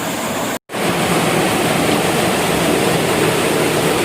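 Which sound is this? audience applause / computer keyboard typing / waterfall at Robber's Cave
waterfall at Robber's Cave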